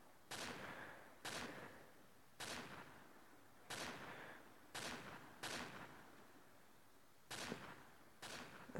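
Eight sharp shots from a modded weapon in Minecraft PE ring out one by one at roughly even intervals, each a crisp crack with a short fading tail, fairly quiet and with no voices.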